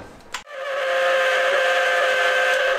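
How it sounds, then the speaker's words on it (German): A stand mixer kneading rye bread dough gives a steady, loud, strained whine with a sustained tonal hum, sounding faulty, starting after a brief click and continuing alone without pause. "Ich lasse das jetzt in der Küchenmaschine kneten"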